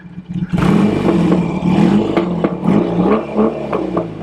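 A 1975 John Player Norton 850 motorcycle engine idles and revs nearby, a rough, throbbing exhaust rumble with repeated pulses of throttle, loud and continuous.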